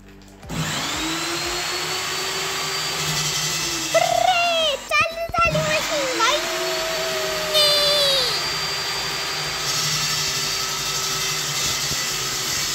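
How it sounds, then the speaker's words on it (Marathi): A water-cooled drill machine cores a round hole through a kitchen wall for a chimney install, giving a loud steady whine throughout with a pitch that sags and recovers as the bit bites, plus brief scraping bursts midway. "ही बघा अशी गोल गोल भिंतीला मशीन कापत आहे."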